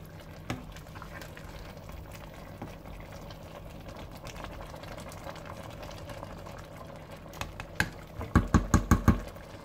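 Sausages and lentils simmering together in a pot, a faint low bubbling under a steady kitchen hum, ending in a short run of louder knocks.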